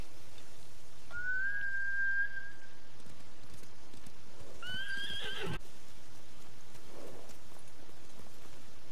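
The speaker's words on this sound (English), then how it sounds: "Bastards scared off the horses" In Ghost of Tsushima, trained samurai horses frightened by Mongol riders whinny twice, a long neigh followed by a shorter one, with hooves clopping as they run off, fairly loud and close against quiet surroundings.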